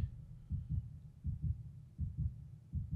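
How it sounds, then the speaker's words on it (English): A heartbeat sound effect from a TV drama episode, thudding low and steady in paired beats about every three quarters of a second, loud and alone with no talk. "Heartbeat."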